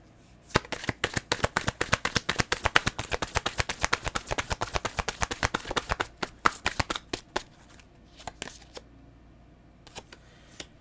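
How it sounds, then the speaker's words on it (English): A deck of tarot cards is shuffled close up in a long run of fast, crisp riffles, which then slow to scattered taps and slides before stopping. "I'm trying to shuffle my cards so that I don't get repeating cards."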